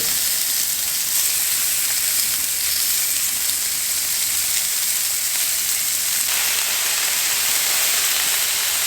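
Beef sizzling on a Blackstone griddle, a steady, close, dense hiss that stays loud and unbroken throughout with no talking.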